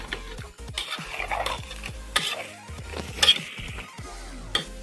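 Chicken being stirred with salt, coriander powder and cumin powder in a metal pot, a run of irregular scraping and clinking strokes, close and fairly quiet, with no talking.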